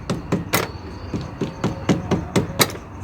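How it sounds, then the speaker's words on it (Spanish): About a dozen light, sharp metallic taps knock down a new terminal onto a car battery post, close and irregularly spaced, with no talk. "Vamos a tratarle de dar unos pequeños golpes en la parte de arriba para que baje bien"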